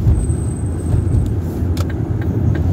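A car drives along a road with a steady, loud low rumble of engine and tyres and a few faint higher clicks, and no talking.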